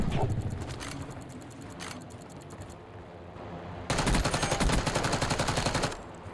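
Rapid automatic gunfire from a shooter in Black Ops 6, loud bursts of fast repeated shots with a short lull in the middle before a long sustained burst, with no voices over it.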